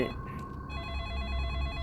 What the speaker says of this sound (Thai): โทรศัพท์เหรอ